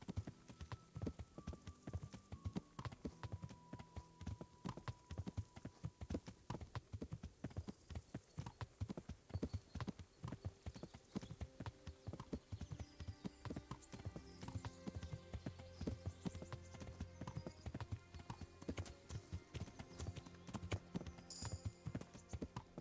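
Horse hooves clip-clop steadily as a rider travels in the video game Kingdom Come: Deliverance, with quick, rhythmic thuds running throughout at a fairly quiet level and no voices.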